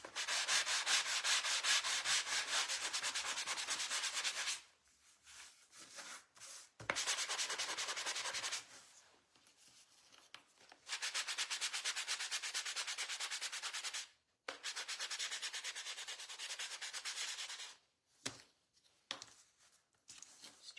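Wooden duck cutouts painted in a patriotic theme get sanded by hand in long steady bursts of abrasive rubbing, several seconds each, broken by short pauses; close and fairly loud, with no talking.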